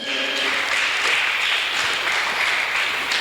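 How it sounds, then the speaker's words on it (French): A church congregation applauds the Lord during a Sunday service, a dense, steady burst of many hands clapping for a few seconds with no talk over it. "On acclame le Seigneur Jésus."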